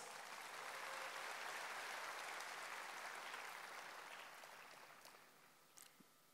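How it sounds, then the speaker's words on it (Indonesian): Steady applause from a church audience for a pastor fills the space, a dense wash of clapping that slowly fades toward the end, heard at a moderate distance. "Let's give our pastor a big hand."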